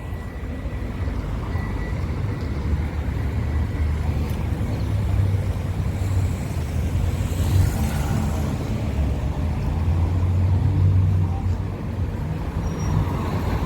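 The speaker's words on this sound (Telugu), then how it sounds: "ఇది రౌండ్ అబౌట్ అనమాట. కార్లు ఇలా తిరిగి అలాగే వెళ్తాయి." Cars and buses circling a roundabout at night in Dubai, a continuous low traffic rumble with engines passing steadily at middle distance and no talk.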